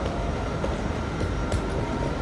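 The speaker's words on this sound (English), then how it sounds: "This is a really cool train hall" Trains in a large train hall in Amsterdam Noord, a continuous rumbling rail ambience with rolling wheels and faint clatter, steady and fairly loud, no voices.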